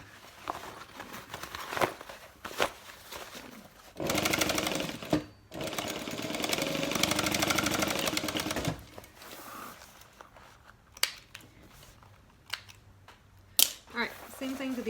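A sewing machine stitches back over a tote bag seam in two steady, close, rapid runs, separated by a short pause, with quiet handling clicks before and after.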